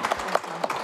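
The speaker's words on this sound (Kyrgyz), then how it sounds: "Айпериге 3 упай кол чабуулар болсун" A studio audience on a quiz show claps in a brief burst, with a few sharp, close hand claps over less than a second.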